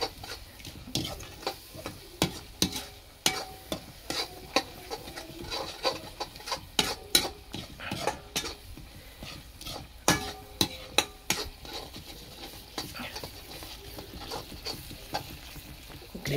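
Crab fry gravy with grated coconut being stirred and mixed in a pan, with repeated close scraping and clinking strokes of a spoon over a faint sizzle.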